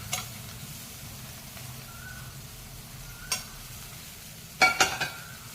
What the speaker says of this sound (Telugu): ఇప్పుడు నేను కట్ చేసి పెట్టుకున్న ఉల్లిపాయలు వేసేస్తున్నాను.